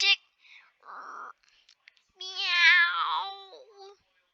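A person imitates a cat's meow with a drawn-out, rising and falling voiced "meow" after a few soft breathy noises, close and fairly loud.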